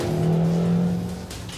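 Car speeding away at night during a police chase, its engine droning and rising in a strained, sustained whine, loud and close before fading slightly toward the end, with no speech.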